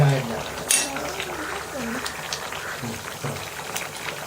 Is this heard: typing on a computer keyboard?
no